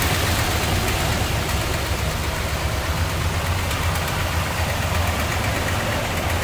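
A 1960 Imperial Crown hardtop's 413 V8 idles close by, giving a loud, steady, even rumble with a faint rhythmic ticking that holds unchanged throughout.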